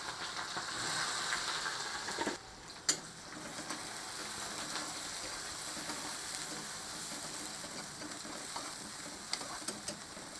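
Onion frying in oil with spices for a Nepali-style chicken curry, a continuous dense sizzle with occasional stirring knocks, fairly close and uninterrupted.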